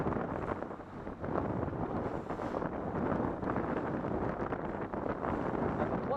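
Wind blowing at sea beside a boat, a steady dense roar buffeting the microphone, loud and continuous with no talk.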